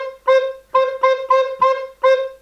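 A recorder plays six short, bright, clean notes in quick groups, tracing a triplet rhythm. Each note sounds alone and clear with no voice.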